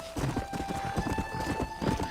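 Horse galloping in the video game Red Dead Redemption, with a steady rapid run of hoofbeats clip-clopping close and loud, a continuous tone held in the background.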